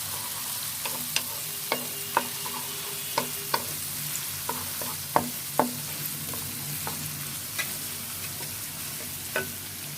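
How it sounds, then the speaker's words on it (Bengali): A spoon stirs eggplant pickle with chopped onion in a frying pan, giving regular scraping clicks roughly every half second over a soft, steady frying sizzle, close by. "একটু ভালো করে নেড়ে নিব।"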